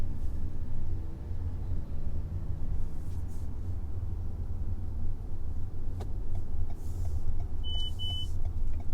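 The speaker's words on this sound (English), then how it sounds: "Oh no, it's got a lane departure warning. Oh, and that's a speed camera beep." Inside a nearly new car on the road, a short pair of bright electronic beeps from a speed camera alert sounds near the end over steady low engine and road rumble; no lane departure chime stands out separately.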